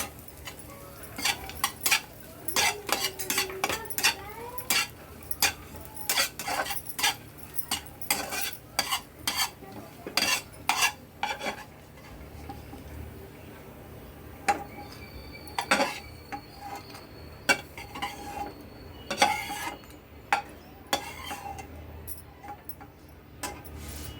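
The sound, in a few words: stirring and frying in a kadhai with almonds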